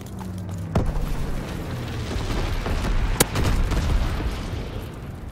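Booming explosions and sharp cracks during an incendiary firebombing run in Call of Duty WWII hardcore team deathmatch, a few loud separate blasts over steady rumbling battle noise.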